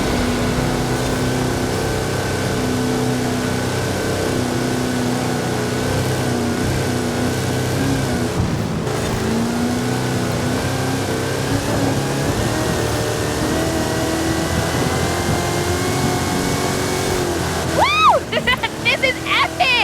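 A Hot Wheels truck in Forza Horizon 5, an XT1 chassis with a 540 cubic inch Chevrolet engine on 66-inch Terra tyres, drones with a steady, loud, sustained engine note. A voice talks over it throughout, and shifting tones rise near the end.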